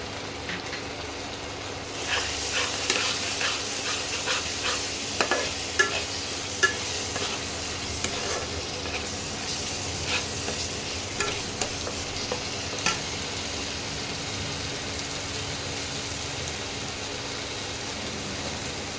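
Turmeric, cumin and coriander powders fry in hot oil for Banarasi mutton, giving a steady loud sizzle with repeated scraping clinks of a spoon stirring the pan, close up and without talk.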